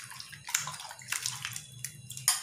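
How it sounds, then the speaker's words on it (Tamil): Sliced vegetables for bajji, cut from plantain and similar produce, dropped into a bowl of water, giving a few close splashing and sloshing bursts over a low steady background hum. "இப்போ இதையும் வந்து நம்ம தண்ணியில் சேர்த்திக்கலாங்க."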